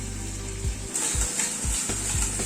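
Spice paste added to frying onions in a pan, a steady hissing sizzle with soft rhythmic stirring thumps, close and alone.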